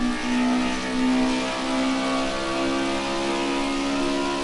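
A Group A touring car engine pulls hard on throttle at the Sonoma circuit during a race, its steady, loud mid-pitched drone rising slightly as it accelerates out of a corner, heard close and alone.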